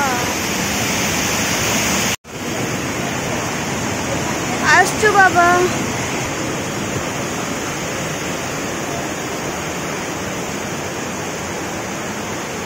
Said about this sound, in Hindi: एते पानी आसुची भीतर केते पानी आसुची